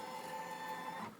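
An embroidery machine stitching quilting, a brief steady mechanical whir with a high whine, fairly faint and alone.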